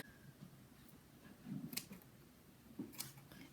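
Scissors cut into a synthetic lace front wig with two quiet, crisp snips close up in a hushed room.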